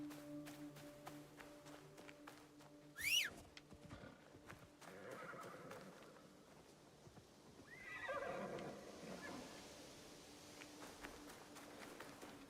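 A horse in Assassin's Creed Shadows gives a sharp whinny, followed by steady clip-clopping hooves as it trots along, moderately close against quiet ambient game sound.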